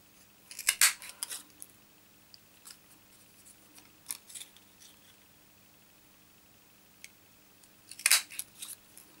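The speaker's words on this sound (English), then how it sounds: "I'm going to cut 4 out, even though I only need 3" Scissors snip through card to cut out flower shapes for a handmade stamped card, close and crisp, in two short clusters of quick snips separated by a quiet pause.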